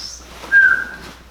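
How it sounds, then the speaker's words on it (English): A person whistles a single clear, sustained note of about half a second, fairly close and alone over a quiet room background. "You whistled."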